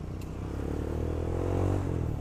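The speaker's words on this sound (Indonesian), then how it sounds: "Kira-kira ada 80 motor lebih ini." Dozens of motorcycles gather for a Sunday morning group ride, a steady low rumble of idling and revving engines that swells slightly, with some clatter, no talk.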